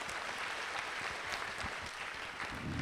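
Conference audience applauding, a dense, even wash of clapping at moderate distance that holds steady throughout.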